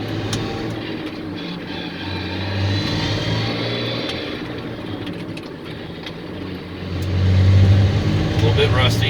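A Ford F150 truck with a twin-stick transmission drives in overdrive, its engine giving a steady mid-pitched drone that rises and swells toward the end, with road and wind noise under it.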